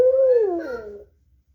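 Desktop pet robot EMO gives a single drawn-out synthetic moo imitating a cow, a tonal call that slides downward and fades within about a second, loud and alone.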